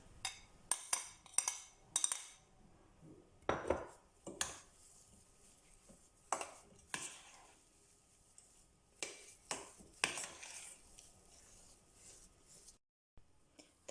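A spoon stirs a cooling mashed potato mixture in a pot, giving faint scattered clinks and scrapes with quiet pauses between bursts.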